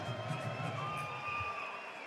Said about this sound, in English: Give these fighters a round of applause.